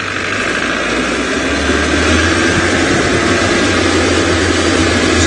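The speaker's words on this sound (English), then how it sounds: "I'm sorry about the noise of the vehicle." A safari vehicle's internal combustion engine drones steadily while driving, a loud, close, continuous low rumble with a constant hum and no one talking.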